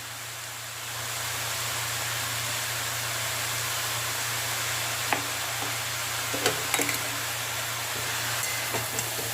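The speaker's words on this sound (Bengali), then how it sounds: "হাই ফ্লেমে রেখে বাঁধাকপিটাকে এবার মশলার সঙ্গে খানিকক্ষণ ভেজে নেব।" Cabbage fries with spices over a high flame, giving a steady, close sizzle with a few sharp clicks and stirring scrapes toward the end, and no voices.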